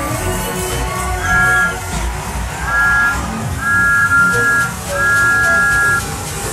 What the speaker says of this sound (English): He whistled an alarm.